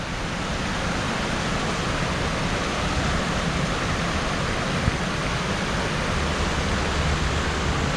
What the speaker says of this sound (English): That's again another little waterfall,